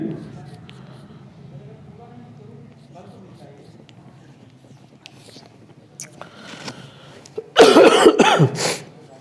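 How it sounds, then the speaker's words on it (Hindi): A man with a heavy cold coughs during a spoken English grammar lesson; after quiet talk, a loud, harsh fit of coughing breaks out near the end. "देखिए कोल्ड पूरी तरीके से हावी है और खांसियां भी आ रही हैं"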